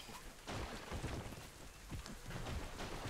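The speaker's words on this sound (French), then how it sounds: "Mais il pleut." Steady rain in a video game pours throughout, a dense hiss with scattered heavier patters and low rumbles, no voices present.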